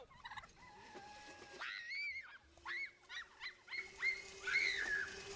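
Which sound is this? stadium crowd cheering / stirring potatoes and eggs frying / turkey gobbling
turkey gobbling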